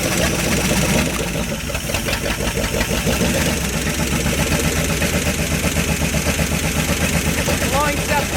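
A 1970 Dodge Dude engine, parked for 40 years, runs steadily with a rough, continuous mid-pitched rumble up close, while people talk over it.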